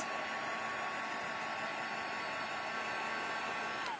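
A heat tool blows hot air steadily and close by for the whole stretch, a constant loud hiss with a faint whine in it, and no talk over it.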